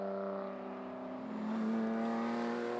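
BMW race cars pull away from the starting grid at Hampton Downs circuit. Their engines give a sustained droning whine that rises in pitch as they accelerate, loud and fairly close, with no voices.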